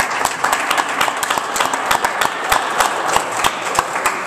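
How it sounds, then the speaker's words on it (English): A crowd at a fundraising talk breaks into loud, continuous applause, a thick roar of many hands with individual sharp claps popping out of the mass. "And clap that up."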